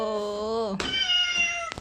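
Two synthetic, electronic-sounding cat meows from a keyboard's sound effect play back to back, tonal and slightly wavering, close and clear.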